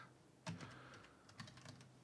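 Two short bursts of computer keyboard typing, keys clicking close by in a quiet room at about half a second and again near the end.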